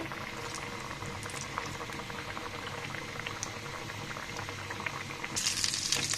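A potato and egg snack frying in hot oil, a steady bubbling sizzle with fine crackles throughout, briefly swelling louder and brighter near the end.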